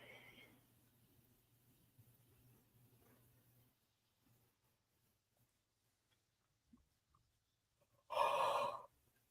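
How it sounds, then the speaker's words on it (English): One person yawns, a single loud, breathy drawn-out exhale that comes at the end after a long stretch of near silence and faint murmurs. "I can't stop yawning."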